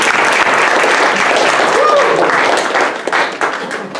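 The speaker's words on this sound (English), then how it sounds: "Give him a round of applause." A roomful of people at a public hearing in Johnson City applauds loudly and steadily, with dense clapping that tapers slightly near the end.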